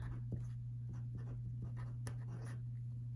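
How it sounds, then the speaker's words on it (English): A fine tip pen writes a phrase on paper as part of card and letter writing, giving soft, quiet scratchy strokes in short repeated bursts over a steady low background hum, with no talking. "I'm just going to write a phrase."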